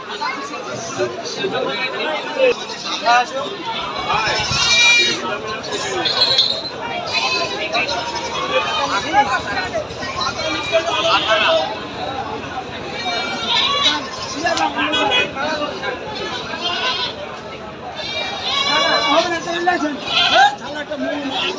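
Goats bleat repeatedly at a busy goat market, mixed into constant crowd chatter and nearby voices talking.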